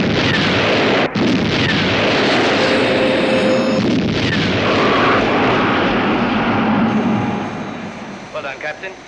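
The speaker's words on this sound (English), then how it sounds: "Missile launch" Sci-fi missile launch effect: a loud, sustained roaring rush that fills almost the whole stretch, with a brief dip near the start and a gradual fade at the end.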